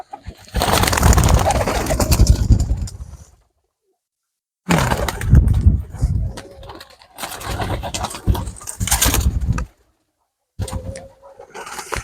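Pigeons coo in close, soft, throaty bursts at a village pigeon loft, arriving in several separate clusters with short silent gaps between them.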